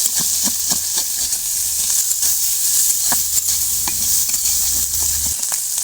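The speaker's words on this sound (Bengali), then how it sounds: "অল্প একটু হলুদ, অল্প একটু লবণ দিয়ে এবার চিংড়ি মাছটা আমি ভালো করে একটু ভেজে নেব" Shrimp seasoned with turmeric and salt fry in hot oil with a loud, steady sizzle, broken by frequent crackles and pops as they are stirred, with no voices.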